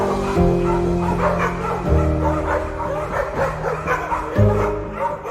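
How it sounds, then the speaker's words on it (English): Several dogs bark and yip close by in an excited, overlapping clamor, with whimpers mixed in, over a low droning musical background. "dogs erupted into a cacophony of barks, disrupting the eerie stillness."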